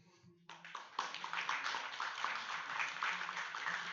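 Audience applause at a games business talk during a Berlin game industry event, a dense sustained clapping that starts abruptly and continues steadily from a crowd in a hall.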